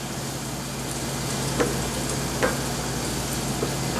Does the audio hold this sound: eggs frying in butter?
yes